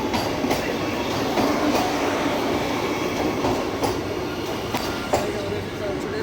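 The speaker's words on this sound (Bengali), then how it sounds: "ঢুকছে বন্দে ভারত।" A Vande Bharat train pulls into a station, a loud, continuous rumble with rhythmic clicks of wheels over rail joints and a faint squeal, with voices around.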